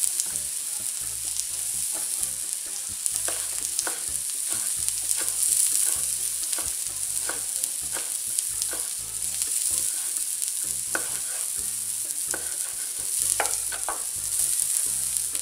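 Mushrooms fry on a griddle over low heat, a constant bright sizzle with scattered crackles and light stirring clicks, close and steady, no talking.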